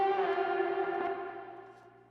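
A sustained vocal chop heavily processed with Logic's stock distortion and Waves Berserk distortion, a buzzy, harmonically dense tone with echo that holds steady, then fades away over about two seconds.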